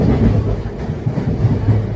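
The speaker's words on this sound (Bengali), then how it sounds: "ট্রেন ছেড়ে দিয়েছে" Steady low rumble and rattle of a general-class passenger train rolling along after leaving the station, continuous and fairly loud with faint rhythmic clatter, no talk.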